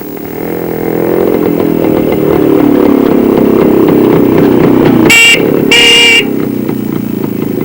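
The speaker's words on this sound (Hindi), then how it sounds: "कितनी मर्तबे आपसे कहा है कि इस कदर बाइक चलाकर हॉर्न बजाते हुए" A motorbike engine revs loudly up close, its buzzing drone swelling, then two short bright horn honks sound over the running engine.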